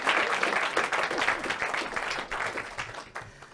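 An audience claps at a small folk gathering of farming songs and stories in Mullion, Cornwall, with steady dense applause that starts strong and slowly thins out over a few seconds.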